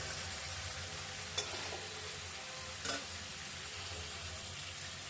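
Fish slid into spiced masala with green chillies in a home kitchen pan, giving a soft, even frying sizzle with two brief clinks of a utensil; no talking.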